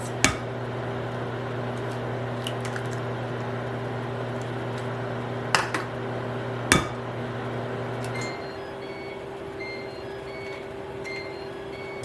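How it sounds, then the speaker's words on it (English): A microwave oven hums steadily close by for about eight seconds, then stops and beeps several times, with a few sharp clinks of dishes handled nearby and no talking. "I'm gonna get this in the microwave and melt this."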